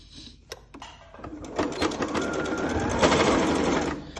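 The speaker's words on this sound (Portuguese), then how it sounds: "vamos lá passar uma costurinha aqui só pra fixar a nossa aba" A sewing machine runs a fixing stitch along the flap of a fabric clutch, building from short starts into a steady, fast mechanical whir lasting several seconds, loud and close with no voices.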